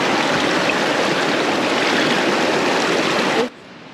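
A river rushes in a steady, loud, broadband roar at the bottom of the Grand Canyon, close by, before dropping abruptly to a quieter hiss near the end.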